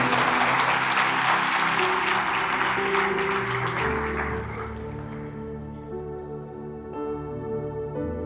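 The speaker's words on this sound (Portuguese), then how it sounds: "dá um glória a Deus e aplaude o Senhor." A church congregation claps together in loud, dense applause that holds for several seconds, then thins and fades into scattered claps as music or voices carry on underneath.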